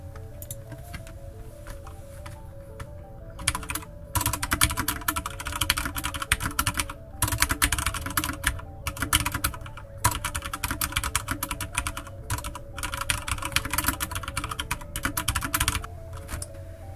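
Rapid clacky keystrokes on a Corsair K65 RGB Rapidfire mechanical keyboard, close and crisp, in bursts with brief pauses between runs of typing.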